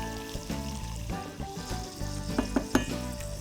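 Rosemary and allspice sizzle steadily in hot oil while marinated olives are being prepared, a close, continuous frying hiss with a few louder pops and stirring knocks near the end, and no talking.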